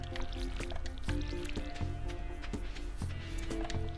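Watering crops in the video game Stardew Valley produces a repeated splashy, squishy pour effect, several close, loud bursts in quick succession over game music.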